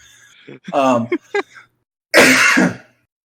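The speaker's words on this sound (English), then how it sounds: "I cough every time I laugh because my throat's too ticklish." A few short throat clears and coughs close to the mic, then a longer rough cough burst after a pause.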